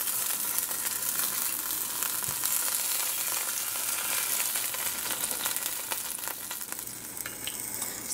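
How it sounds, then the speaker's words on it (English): Fish frying over low heat in oil in a pan gives a steady, dense sizzle with crackling pops throughout, close and continuous, with no talking. "I'm going to go in with my fish and we're gonna cook this on a low heat"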